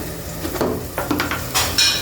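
Food being sautéed in a pan for a radish curry, soft sizzling with intermittent scraping stirs and light utensil clinks.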